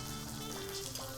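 Pierogies frying in browned butter in a pan give off a steady, soft sizzle and crackle that stays fairly quiet and even throughout, with no talking.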